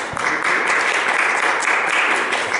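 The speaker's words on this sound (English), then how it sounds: "Let's give him a round of applause." An audience at a women's club gathering in a church gives a round of applause, a dense, even patter of many hands clapping without a break.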